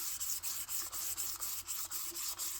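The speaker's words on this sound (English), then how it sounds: "maybe a little bit more sanding in some of these really dark spots" Sanding the head of a custom ball peen hammer, a steady abrasive rasp repeated in quick even strokes about every quarter second, close and alone with no talking.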